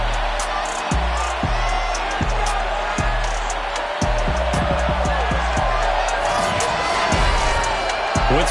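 Home crowd at a Miami Dolphins football game cheering as the starters are introduced, a loud sustained roar with sharp thumps and bangs over it.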